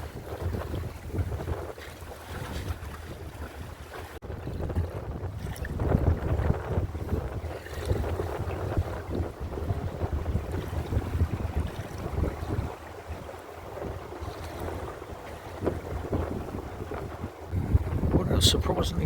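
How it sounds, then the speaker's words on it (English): A tide-powered ferry boat hooked to an overhead zip wire crosses a river in Basel, with steady wind buffeting and water rushing around the hull, while people talk faintly nearby. "This is that boat that's powered by the tide."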